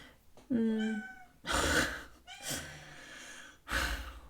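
A house cat lets out a clear, close meow near the start, followed by breathy huffs and softer vocal sounds at intervals.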